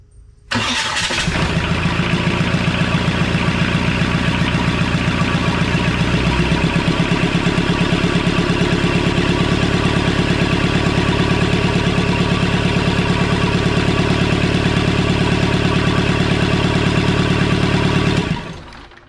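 A Kubota diesel engine with a freshly fixed serpentine belt cranks, catches and runs steadily at a loud, even idle for about seventeen seconds before cutting off, with no talking over it.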